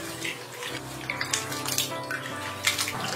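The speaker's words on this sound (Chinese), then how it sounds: "处理好的大虾全部装入大碗中，然后再加入清水把大虾清洗一下" Prawns are rinsed in a bowl of clean water, with continuous splashing and sloshing close by, a few sharper swishes and clinks standing out near the end, and no talking.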